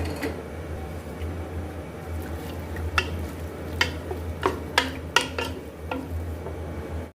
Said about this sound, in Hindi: प्याज को हमने फ्राई कर लेना है